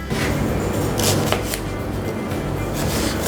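A knife finely chops shallot on a cutting board, producing a steady, close, rapid series of crisp taps that run continuously from start to finish.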